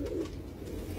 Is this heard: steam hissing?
no